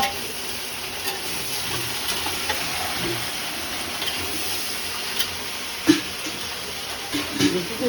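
Pointed gourd (potol) frying with cumin seeds in a pan, giving a steady, moderately loud sizzle with faint stirring scrapes and a few sharper clicks near the end.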